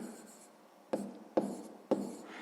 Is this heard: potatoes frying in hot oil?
no